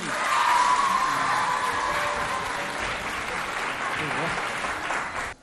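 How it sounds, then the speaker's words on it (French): Lively applause for contestants on a school quiz show, dense and continuous for several seconds with some background voices, before stopping abruptly. "Bravo, on les applaudit."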